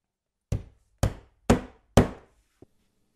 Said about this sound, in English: We place it and nail it down on all 4 corners using our ring shank nails.